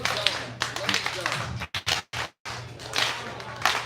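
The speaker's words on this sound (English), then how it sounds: "I want y'all to do like the movies and do like the slow clap" An audience at a live show does a slow clap, a few spaced hand claps mixed with voices and crowd noise, broken by short silent gaps.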